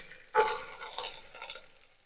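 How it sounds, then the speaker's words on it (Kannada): Onions fry in a pan for a mutton sukka dish, with a sudden stir that scrapes and rustles, followed by a fading sizzle heard up close and alone. "ಈರುಳ್ಳಿ ಈರುಳ್ಳಿನ ಚೆನ್ನಾಗಿ ಫ್ರೈ ಮಾಡ್ಕೋಬೇಕು"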